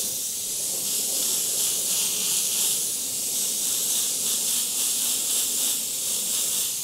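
An airbrush sprays paint in a continuous, even high hiss of air that is fairly close and steady throughout, with no talking.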